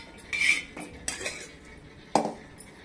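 Metal utensils clink and scrape against a pot as roasted curry leaves and bay leaves are transferred for a Maharashtrian watan spice paste, a few light, sharp taps and a short scrape, close and fairly quiet.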